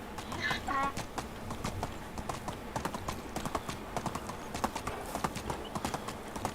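Horse hooves clip-clop steadily while riding in the medieval game Medieval Dynasty, the even hoofbeats running throughout at moderate loudness with some background sound.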